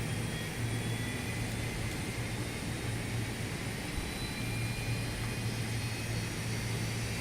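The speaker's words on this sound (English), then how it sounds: "While we got the APU starting up, let's do that." Airbus A319 auxiliary power unit spooling up in a flight simulator, a steady, continuous mechanical whine and low rumble holding at even loudness throughout, with no voices.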